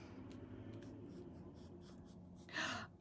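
Pencil tracing on tracing paper, a soft continuous scratchy scribbling close by, with a louder, brisker stroke near the end; quiet and alone with no talk.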